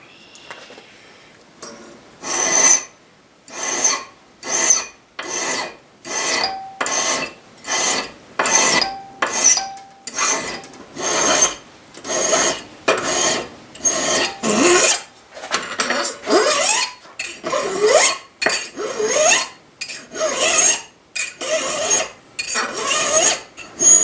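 Steady strokes of a file sharpen a small steel blade from a one-dollar survival kit, about two dozen separate rasping passes in an even rhythm, close and loud, with no talking.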